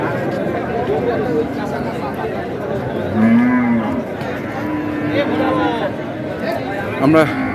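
Several cattle, including bulls, moo at a busy livestock market in Bangladesh, low bellows rising over a steady murmur of crowd chatter and nearby voices.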